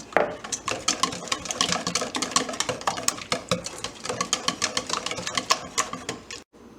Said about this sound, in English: And then mix that till it's all blended.